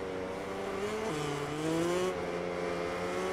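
Racing motorcycle engine from the MotoGP 20 video game at the Catalunya circuit: a steady, loud high-revving whine that drops in pitch sharply near the one-second mark as the bike shifts, then climbs again, with no voices.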